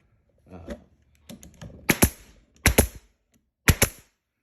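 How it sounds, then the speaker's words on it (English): A Hitachi nail gun fires three sharp, loud, close snapping shots spaced about a second apart, with softer clicks and handling noise just before them. "This nail gun I'm using is from Hitachi."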